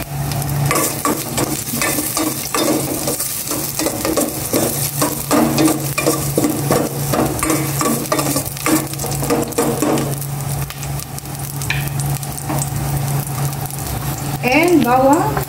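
Ginger sizzles and fries in olive oil in a pan, with steady crackling and stirring scrapes and a voice talking over it throughout.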